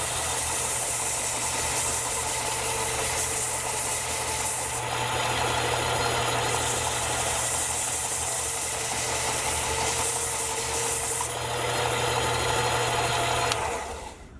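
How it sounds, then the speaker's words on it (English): A Harbor Freight electric sander smooths a wood carving with a continuous loud motor whine and buzzing vibration, its pitch shifting slightly as pressure changes, before it stops at the end. "This is a sander I got from Harbor Freight."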